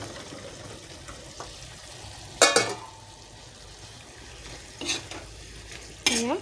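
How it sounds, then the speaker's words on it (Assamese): Cut potatoes frying in a pan are stirred, giving a few loud scraping strokes over a steady sizzle, with no talking. "এয়া ধুনীয়াকৈ লৰাই দিব,"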